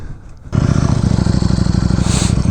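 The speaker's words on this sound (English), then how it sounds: "You can hear the engine." A Ducati Streetfighter V4S motorcycle engine fires up after a brief quiet moment, settling into a loud, close, rumbling idle with a rapid uneven pulse.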